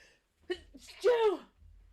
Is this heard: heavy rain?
no